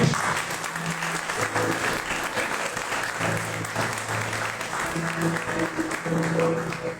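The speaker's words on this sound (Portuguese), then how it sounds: "os irmãos possam aplaudir o Senhor Jesus por isso." A church congregation applauds in a continuous, full roar of clapping, with some voices and a faint sustained tone underneath.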